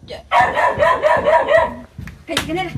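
A dog that recently had puppies barks in loud, agitated bursts close by, a run of rapid barks followed by a pause and another outburst, with a voice also heard.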